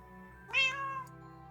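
A single cat meow played as a sound effect on a Kerbal Space Program 1.12 stream, one clear rising-falling meow, near and distinct over a quiet hum.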